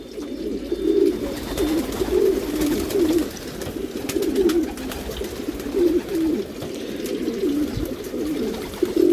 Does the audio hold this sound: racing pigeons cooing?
yes